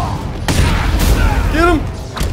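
Several sharp gunshot bursts crack out amid a loud, busy fight in Batman Arkham Knight, with overlapping voices and combat noise throughout.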